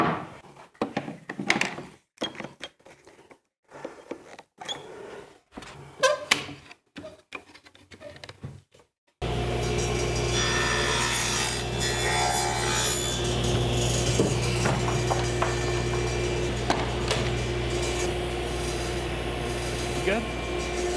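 A wood piece clamped in a shop-built jig is pushed across a running saw blade while building a mid-century modern nightstand: a steady, loud machine drone with grinding cut noise, following a stretch of quieter rubbing and handling sounds.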